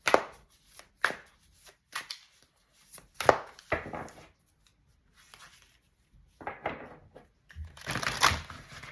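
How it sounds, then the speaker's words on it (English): Tarot oracle cards being shuffled by hand, heard as quick crisp riffling bursts with pauses between them, close up and moderately quiet, with no voices. "So we're going to get some oracle cards first."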